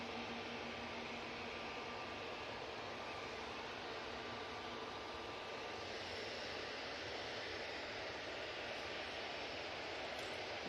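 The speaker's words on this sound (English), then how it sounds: "Ryanair from Cork, about to touch down" A Ryanair plane from Cork comes in to land at Manchester Airport, a steady, even engine roar heard from a distance with a faint hiss, and no voices.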